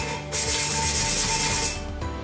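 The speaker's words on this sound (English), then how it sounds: "we're just gonna scuff it up" Light scuffing of a tumbler surface makes a close, steady rasping rub lasting under two seconds, with quick back-and-forth strokes before it stops abruptly.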